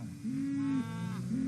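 A cartoon cow gives two long, drawn-out moos, the first sustained and the second starting near the end, loud and close with no talking.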